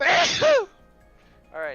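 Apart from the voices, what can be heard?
sneeze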